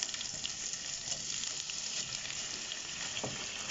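Chicken strips frying in a pan for a creamy mushroom dish, a steady dense sizzle and crackle holding at moderate level throughout with no voices.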